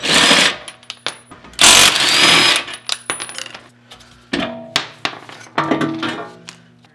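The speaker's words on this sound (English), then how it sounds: "take a 19 millimeter socket and remove the two bolts that hold the ball joint to the knuckle" A 19 mm socket on a ratchet or impact tool backs out the ball joint bolts at the knuckle of a Lexus IS lower control arm, giving close, loud bursts of whirring and clanking, then scattered metallic taps and rattles.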